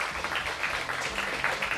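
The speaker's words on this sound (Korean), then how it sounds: "다시 한번 큰 박수 부탁드리겠습니다." Audience applause at the press launch of the MBC comedy series 'Now, Showtime!', a steady, fairly faint wash of clapping lasting under two seconds with no speech over it.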